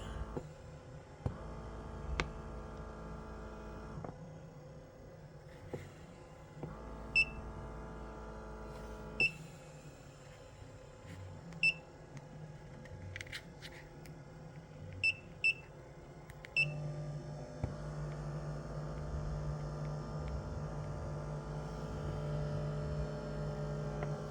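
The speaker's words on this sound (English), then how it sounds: "I heard a beep." Several short, sharp electronic beeps from a foot massager machine sound at irregular intervals over a steady machine hum and intermittent tonal whirring; no one speaks.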